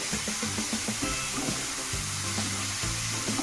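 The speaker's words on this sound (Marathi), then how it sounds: "हा जो आपण चॉप केलेला कांदा आहे तो ॲड करूया कांदा छान परतून घ्यायचा आहे" Chopped onion sautéing in hot oil in a pan for dhaba-style egg ghotala, a steady close sizzle with occasional stirring scrapes, alone without talk.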